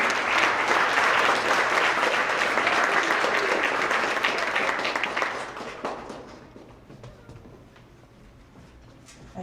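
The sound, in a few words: applause for math award recipients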